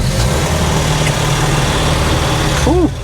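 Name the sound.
old little bus engine starting and running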